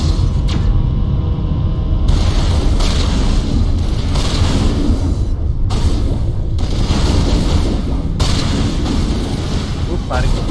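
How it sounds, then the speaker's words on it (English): Heavy, continuous gunfire and booming blasts from a Mass Effect Legendary Edition battle, a dense, loud barrage of rapid shots and explosions rolling on without pause, with a voice faintly present underneath. "Who's firing from behind?"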